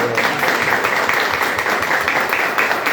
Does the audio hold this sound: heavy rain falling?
no